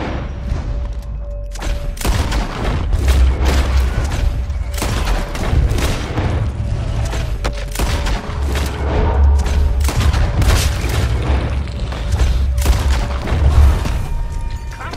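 Sustained gunfire in Red Dead Redemption 2, a dense crackling firefight of overlapping shots and deep booms from several shooters, continuous and loud throughout.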